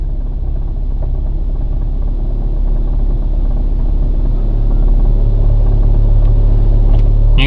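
A 2015 Audi TT MK3 idles steadily with a low, continuous rumble while its DSG gearbox is cycled through the gears, loud and close with no talk over it.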